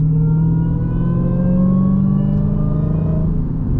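Dodge Challenger SRT Demon engine held between about 2,000 and 4,000 RPM in manual mode, its supercharger giving a steady rising whine over a loud, continuous close-up drone with no talk.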